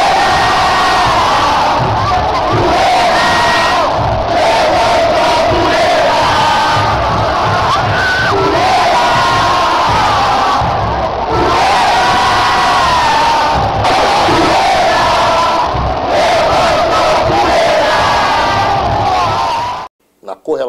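Flamengo football supporters chant a song as a large, dense crowd, a loud sustained roar of many voices with rhythmic swells and shouts carrying on without a break, then cutting off abruptly near the end.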